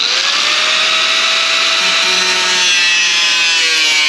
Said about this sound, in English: gonna just go nibble this out with a cutoff wheel real quick